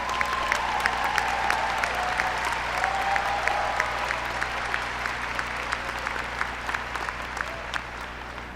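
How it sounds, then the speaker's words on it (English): A commencement crowd applauds teachers and support staff in a high school graduation hall, steady sustained clapping at moderate distance with a faint tonal sound drifting underneath. "we can give them a round of applause for all the hard work that they put in"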